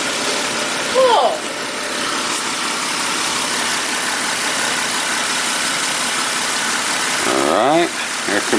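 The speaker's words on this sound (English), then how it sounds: "Alright, air compressor is installed." A rebuilt ViAir air compressor runs steadily and continuously at moderate volume, a constant motor hum with broad hiss, with brief voice sounds near the start and end.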